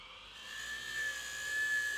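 A wood lathe spins steadily with a whining hum as the tool takes the rough edge off a tiny turned bowl. The whine is faint but constant throughout.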